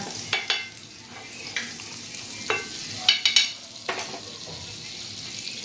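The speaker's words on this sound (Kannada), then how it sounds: "ಈ ತರ ಬಟರ್ ಹಾಕೊಂಡು ನೋಡ್ರಿ ಬಟರ್ ಪೂರ್ತಿ ಮೆಲ್ಟ್ ಮಾಡಿಸ್ಕೊಳ್ಳೋಣ್ರಿ" Butter melting and sizzling on a hot tawa for pav bhaji paratha, a soft close sizzle punctuated by repeated spatula scrapes and taps.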